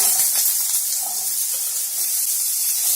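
Chopped amaranth stems fry in a pan with dry chili pieces and curry leaves, giving a loud, steady sizzle and hiss with faint scattered crackles throughout.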